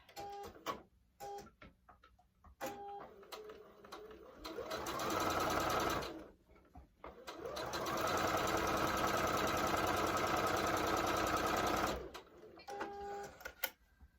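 A sewing machine stitches chevron quilt pieces in two steady runs, a short burst and then a longer stretch of rapid, even whirring close by. Quiet handling noises fall between the runs.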